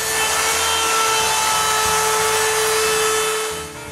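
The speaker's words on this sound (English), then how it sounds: "Finally, I chamfer the interior of the window frames." A handheld router chamfering the interior edges of wooden shop window frames screams at a high, steady pitch with a gritty cutting texture, loud and close, then trails off at the end.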